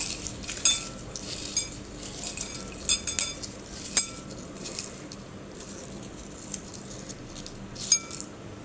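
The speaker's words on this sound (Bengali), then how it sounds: "দিয়ে এটাকে ম্যাশ করে নেব ভালো করে" Cauliflower bharta with dried chili and salt is mashed in a dish, giving a series of sharp clinks and scrapes of utensil against the bowl at irregular intervals, fairly close and without talk.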